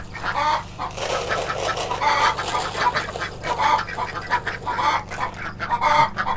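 Ducks quack and cluck steadily at close range near a doorway, a busy overlapping chatter of several birds with a low background hum underneath.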